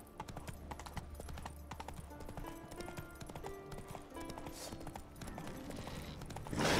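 Horse hooves clip-clop steadily on the ground in The Witcher 3 as the mount is ridden up a steep slope, a fairly loud rhythmic clatter under game music with no speech, ending in a louder burst.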